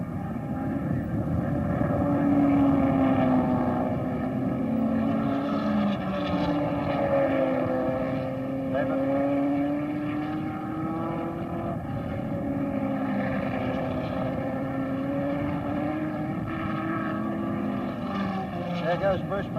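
1963 Formula One race cars at the Australian Grand Prix accelerating out of a corner up a short straight, a sustained droning engine note rising and shifting in pitch, heard under continuous commentary.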